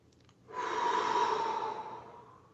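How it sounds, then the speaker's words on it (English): One long, deep breath sounds close by, a smooth airy rush that swells and then fades over about two seconds, with no talking around it. "take a deep breath"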